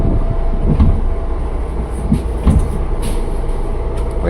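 A 12-car KRL commuter train at Manggarai station, heard from inside or alongside as a steady rumble of rolling stock with a few soft rhythmic clunks from the wheels and couplings.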